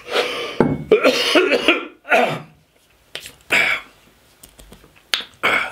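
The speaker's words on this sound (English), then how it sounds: "I was getting a wee tickly cough there." A man in a home setting coughs repeatedly from a tickly throat, several sharp close bursts in an uneven rhythm separated by short pauses, with throat-clearing mixed in.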